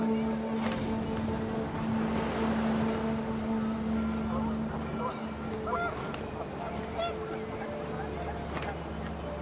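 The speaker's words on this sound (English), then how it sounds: "The wind picked up and panicked geese appeared and quickly went" Panicked geese in the video game What Remains of Edith Finch honk in scattered bursts over a rushing wind-like background, the calls fairly faint and overlapping, with a steady tonal hum underneath.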